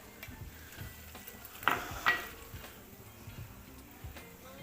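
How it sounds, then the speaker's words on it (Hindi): Whole spices and ginger paste frying in a pan give a faint, soft sizzle, with a couple of brief louder crackles near the middle and light stirring ticks. "इनको हमने 1-2 मिनट भुनना है मसाले को"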